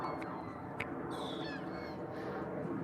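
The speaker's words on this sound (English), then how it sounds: "You can hear the seagulls." Seagulls call in a few short squawking cries over a steady outdoor background hiss, faint and somewhat distant.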